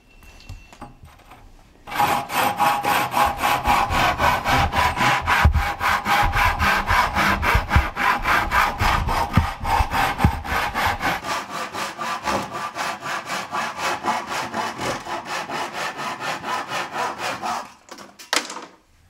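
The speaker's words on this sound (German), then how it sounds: "Mit der Handsäge kann der Trommelbauer den Kessel an der Markierung jetzt ganz einfach abschneiden." A drum builder's hand saw cuts through a wooden drum shell along a marked line with steady, rapid back-and-forth strokes, loud and close, running continuously for about fifteen seconds before stopping.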